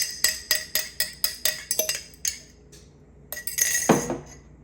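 An egg is tapped repeatedly against a bowl of dry ingredients for Hopi blue cornmeal cornbread, making a quick run of bright ceramic clinks followed by a softer crack and spill near the end.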